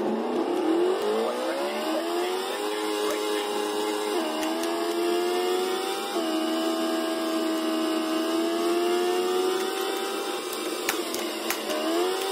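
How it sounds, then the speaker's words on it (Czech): A Ford Puma rally car engine in a rally simulator video game holds a loud, continuous drone, its pitch climbing and dropping back repeatedly through gear changes, with occasional faint clicks. "Vozidlo Ford Puma."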